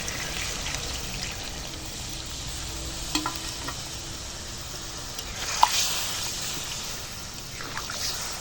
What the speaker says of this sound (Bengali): তো এখন এই যে মশলা ধোয়া জলটা দিয়ে দেব